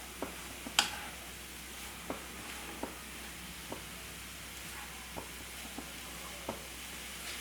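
Spinach and egg thoran cooks in a pan with a soft, steady sizzle, broken by light scraping taps of a spoon stirring every second or so, close and fairly quiet.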